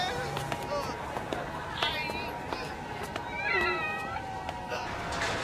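A cat meows in a Hindi-dubbed Chainsaw Man anime episode, several short high mews scattered through the scene, alongside other soundtrack noises and voices.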